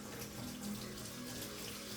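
Running tap water pours steadily as rice is rinsed in a kitchen sink, a constant even hiss at low level with no voices.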